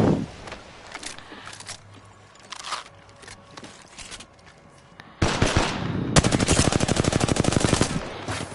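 Video game gunfire, with quiet shuffling and scattered sounds at first, then a loud sustained rapid burst of automatic fire near the end.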